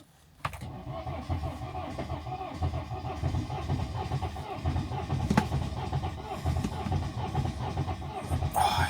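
A salvage auction car's engine cranks and struggles, a low rumbling churn that catches briefly and keeps faltering for several seconds, with a sharp click near the start and a voice partly under it.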